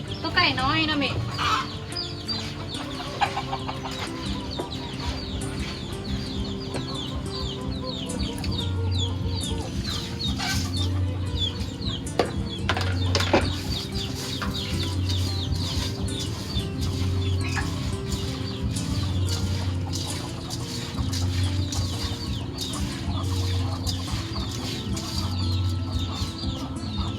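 Young chickens cluck and peep continuously close by, with an adult hen's low clucking recurring in rhythm and people talking over the flock throughout.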